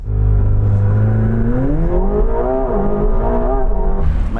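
McLaren 750S and Lamborghini Revuelto accelerating hard in a race, a loud, close engine roar that climbs steadily in pitch through the gears and holds at full volume, with a brief drop near the end before it surges again.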